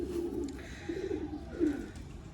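A blue pigeon near water gives three soft, low coos in a row, close and fairly quiet, with no talk.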